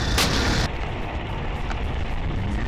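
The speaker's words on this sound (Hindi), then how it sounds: "अरे यार बम तो फोड़ूंगा" A firecracker bomb goes off at night during a motorcycle ride, a loud sharp bang at the very start followed by a steady roar of road and engine noise.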